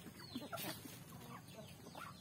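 Native chickens clucking outdoors in a yard where they forage on greens and weeds, a faint, scattered run of soft clucks at a distance with no talk.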